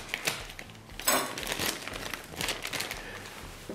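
A chicken breast is pulled from a vacuum-sealed plastic bag, with soft, quiet crinkling and rustling of the plastic in short irregular bursts.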